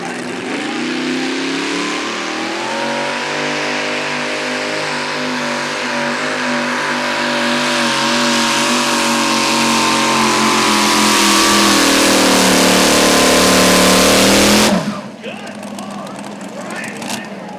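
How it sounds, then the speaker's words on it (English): The engine of a pulling tractor called Second Attempt roars at a sustained high rev during a truck and tractor pull at a fair. The roar is loud and close, then cuts off abruptly near the end. "This is the tractor called Second Attempt."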